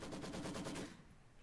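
Machine gun fire in the video game Company of Heroes 2 rattles in a rapid, even burst of shots for about a second, then cuts off abruptly and leaves quiet.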